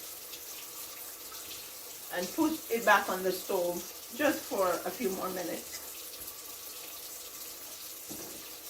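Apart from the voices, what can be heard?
water running from a tap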